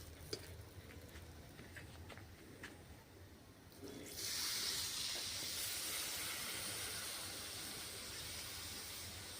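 Milk is poured into a pan of chana dal and coconut fried dry in ghee, and a faint low background suddenly gives way to a steady broadband hiss and sizzle that continues evenly to the end.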